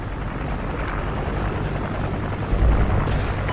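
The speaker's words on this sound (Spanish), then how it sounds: "Viene un helicóptero aliado." An allied helicopter in the Call of Duty game on the Chasm map during a Domination match, a loud, steady rotor roar with a deep rumbling low end that swells slightly toward the end.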